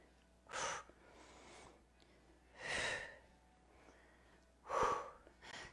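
Three forceful breaths pushed out during a board exercise workout, each a rough, breathy rush spaced a couple of seconds apart, close to the mic with quiet between them.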